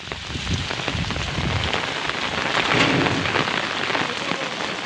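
Heavy rain pours steadily in a windy storm at night, a dense continuous hiss of drops hitting surfaces, loud and close throughout, with no voices.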